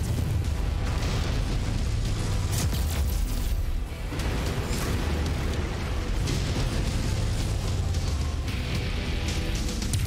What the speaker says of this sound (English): I'm gonna keep ramming buildings here.